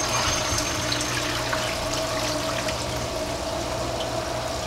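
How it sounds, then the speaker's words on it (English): Water is poured steadily into the filter of a 40-gallon home fish tank, a continuous, even splashing and trickling with no break and no voices. "I'm going to put the water in the filter."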